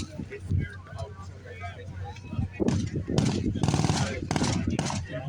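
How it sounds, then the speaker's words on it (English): An MG42 machine gun fires in rapid, ripping bursts during a Normandy beach-landing reenactment, two or three loud broadband bursts in the second half over low rumbling background noise and voices talking. "Here's the MG42 again. It makes a very, very distinctive sound."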